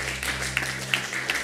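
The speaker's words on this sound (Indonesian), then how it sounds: "Tepuk tangan dulu." A church congregation at a Pentecostal prayer rally applauds briefly, light scattered clapping with a few sharper claps standing out over a steady low hum from the hall's sound system.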